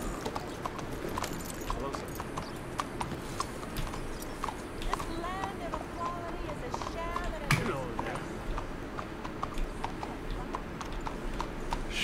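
Horse hooves galloping in the video game Red Dead Redemption 2, a rapid, steady clip-clop rhythm running throughout, with a voice talking over it.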